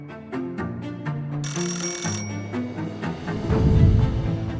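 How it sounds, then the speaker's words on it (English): A telephone rings with a brief high trilling burst, set against a swelling dramatic music bed that grows louder and deeper toward the end. "The phone started ringing."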